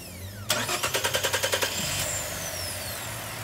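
A car engine, just cleaned of oil sludge at a tire shop in Querétaro, cranks in a quick run of about a dozen rhythmic starter pulses, catches, and settles into a steady idle.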